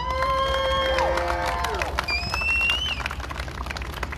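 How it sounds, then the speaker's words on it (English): A crowd at an outdoor Black Lives Matter anniversary observance claps and cheers for an activist. Whoops and raised voices ride over a continuous layer of applause, loud and sustained across the clip. "I want everybody to give Steve a round of applause."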